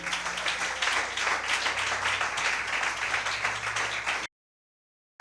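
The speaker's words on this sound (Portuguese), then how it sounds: "Você pode aplaudir a Ele." Church congregation applauding during a Portuguese-language worship service, a steady dense wash of clapping for about four seconds before cutting off abruptly, with low hum beneath.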